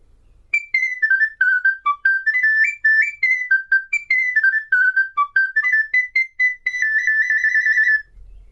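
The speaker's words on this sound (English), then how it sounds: "the smallest is the sopranino recorder" Sopranino recorder, the smallest of the family, playing a quick, high, bright melody of short detached notes that ends on a sustained tone, solo and close with no talk.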